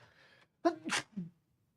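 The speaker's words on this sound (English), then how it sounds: "Have to sneeze." A single close sneeze, with a quick sharp intake of breath followed by an explosive burst, then a short trailing exhale, faint hum before.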